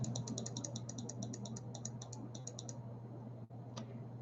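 Fast, light clicking of a computer keyboard being typed on, a brisk run of close taps over a steady low hum, stopping partway with a couple of stray clicks after.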